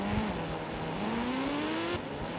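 A motorbike engine in a video game hums steadily and loud throughout, its pitch dipping and then climbing in a smooth, sustained rev before easing off near the end.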